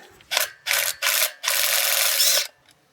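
A ratchet with a 5mm socket working on the rear brake rotor retaining bolt of an Alfa Romeo Stelvio, giving three short bursts of clicking and then one longer run of fast ratcheting, loud and close.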